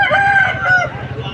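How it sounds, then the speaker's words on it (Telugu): A rooster crows loudly and close at a chicken market in Vijayawada, one long drawn-out call lasting about a second, with a busy market murmur underneath. "మంచి సీతువా కోడిపుంజుని అయితే తీసుకొని వచ్చారు"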